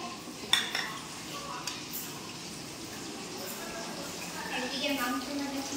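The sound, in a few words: mixing ingredients together in a pot for chilli chicken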